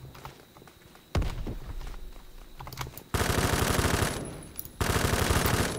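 Gunfire and a grenade blast in the shooter game Phantom Forces: scattered shots, then a loud sudden burst and sustained rapid machine-gun fire that drops out briefly and resumes.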